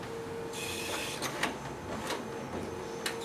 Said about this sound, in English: as you can see, the document feeder is working properly